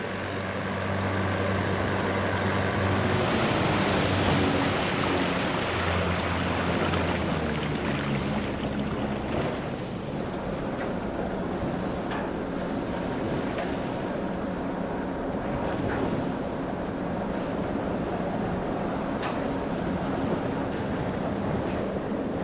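Ocean waves and gusting wind around a Zodiac inflatable boat at sea in rough weather, a steady loud wash of surf and wind noise with a low rumble that fades in the first few seconds.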